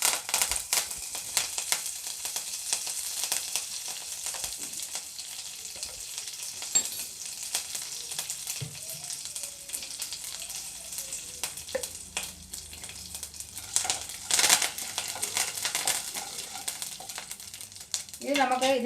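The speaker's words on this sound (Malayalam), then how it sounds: "ഇനി നമുക്ക് കറിവേപ്പില ഇട്ട് കൊടുക്കാം." Curry leaves hit hot oil with mustard seeds while a raw plantain stir-fry is being started, giving a busy sizzle dotted with crisp crackles and occasional louder spits.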